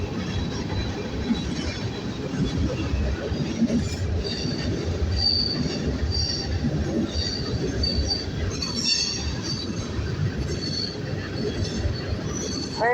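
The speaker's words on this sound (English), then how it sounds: "Man, this Norfolk Center free time is huge." A long Norfolk Southern manifest freight train rolls steadily past close by, its wheels squealing in repeated high-pitched whines over a constant rumble and clatter of the cars, with no break for the whole span.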